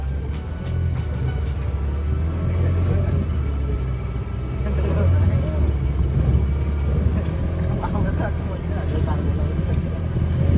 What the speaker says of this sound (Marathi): आपली बोट जाणार आहे मित्रांनो